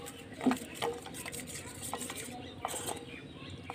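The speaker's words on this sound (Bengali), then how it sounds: "দেখুন অল্প করে জল দিয়ে গুলে নেব" Flour and cornflour batter being whisked with a little water in a bowl for onion rings, with soft clinks and scraping strokes close by against a low, steady kitchen background.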